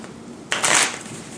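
Playing cards riffle in a quick false shuffle on a table, a single short burst of crisp flutter that rises sharply and fades within a second, close and alone.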